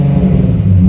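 Nissan 370Z engine running loud and close, a deep steady idle rumble with a slight rise in revs over a single second.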